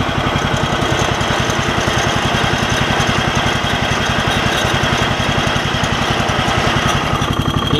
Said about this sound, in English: I got the mower in neutral